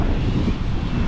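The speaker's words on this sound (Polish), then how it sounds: "Dzisiaj duży wiatr i fale są." Steady roaring wind gusts buffet the microphone on a wide sandy Baltic beach at Łeba in June, a continuous loud rumble with possible surf mixed in.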